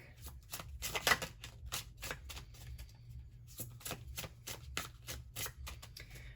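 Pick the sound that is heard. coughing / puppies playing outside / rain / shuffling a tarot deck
shuffling a tarot deck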